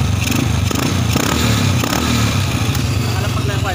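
A Rusi 100 motorcycle converted with a clutch and free wheel runs during a test, its engine loud and steady with a continuous clattering idle, close by, as people talk over it.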